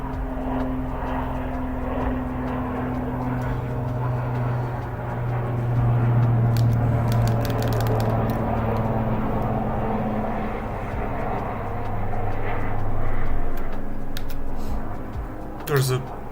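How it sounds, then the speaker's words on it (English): An airplane passes overhead with a sustained low droning engine roar that swells and fades over several seconds, blended with background noise and faint scattered clicks. "There's a fucking plane flying over me."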